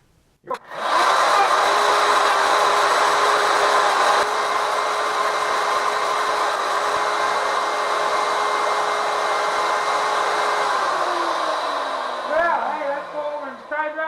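A power tool, likely a router, cuts the ends of wooden case pieces with a loud, steady, high whine that runs unbroken, then winds down with a falling pitch near the end.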